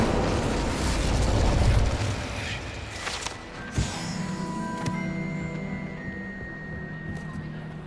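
An Incendio fire spell cast in the Hogwarts Legacy video game: a loud burst of fiery rushing noise that fades away, followed by a sharp crackling pop and lingering ringing, magical tones.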